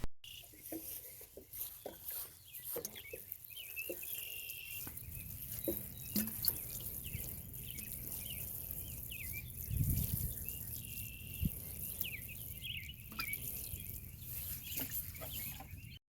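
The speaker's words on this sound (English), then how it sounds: "now it's time to water it in." Water poured onto garden soil over freshly planted bush bean seeds, a soft continuous patter and trickle with scattered drips, close by and steady, with faint outdoor sounds behind and no talking.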